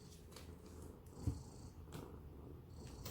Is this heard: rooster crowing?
no